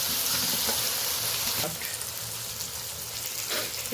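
Onion and tomato frying in tempering oil for a country chicken curry, a steady near sizzle with occasional stirring scrapes and clinks, no talking.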